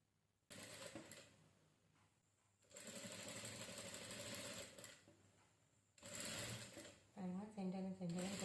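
A sewing machine stitches a saree blouse in three close, loud bursts of steady whirring separated by short pauses. A voice speaks over the final burst.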